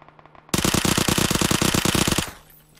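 Full-magazine automatic gunfire in PUBG: a rapid, steady burst of about twenty loud, evenly spaced shots running for nearly two seconds, then an abrupt stop with a short fading tail.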